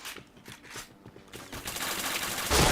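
Repeated automatic gunfire from a shooter video game, a few spaced shots at first and then a dense, loud stream of rapid fire that builds toward the end, with no talk over it.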